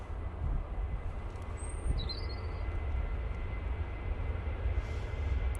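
Airbus A330 airliner arriving from New York JFK at Manchester Airport, a steady broad engine roar held at even loudness throughout, with a faint high whine passing briefly overhead.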